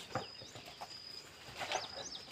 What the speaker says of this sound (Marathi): आणि पाखराचा चिलबिटाल पाहू शकतो कसं मस्त